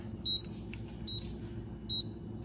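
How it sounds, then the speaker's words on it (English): An Instant Pot pressure cooker timer beeps three times at an even pace, short clear high tones over a low steady hum in a quiet kitchen. "The timer is going off"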